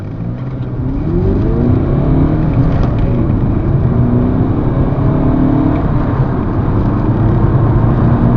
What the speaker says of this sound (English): I'm going to do a 0 to 60 test now.